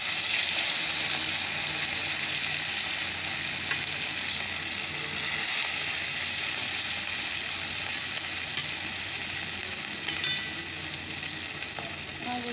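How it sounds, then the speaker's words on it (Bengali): Fish sizzling steadily in hot oil in a home kitchen, a continuous dense crackle and hiss that stays loud and even throughout with no talking. "তো চলো মাছগুলো ছেড়ে দেই"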